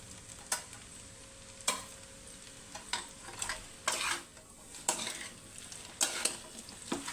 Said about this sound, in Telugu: ఇది ఒక సింగిల్ గరిటెతో కుదరదు కాబట్టి నేను డబుల్ గరిటెతో కలుపుతున్నానండి.